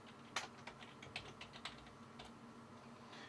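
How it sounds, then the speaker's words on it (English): Typing on a computer keyboard to enter a name, a short burst of close, quiet key taps in an irregular rhythm before the room settles into a steady hum. "I'm going to type my name"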